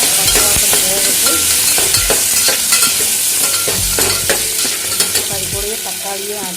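Tomato and spice paste sautéing in a pan for tomato biryani: a loud, close sizzle broken by repeated scraping and clattering stirring strokes in an uneven rhythm, with no talking.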